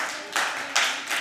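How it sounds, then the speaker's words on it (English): Audience applause at a game design lecture, a short burst of clapping with a few louder surges, close and moderate, without talk. "Round of applause."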